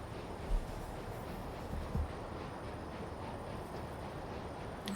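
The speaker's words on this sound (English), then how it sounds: "And now I start this parcel train, which is in the section for the special trains." A parcel train starts off in the EEP railway simulator game, giving a low, steady rolling rumble that is faint and continuous, with a couple of soft knocks and no talk.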